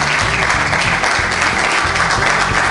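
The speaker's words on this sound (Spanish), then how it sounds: "Dale el aplauso al Señor" A church congregation applauds to the Lord after a sermon, loud continuous clapping from many hands close by, dense and even throughout with a low musical hum underneath.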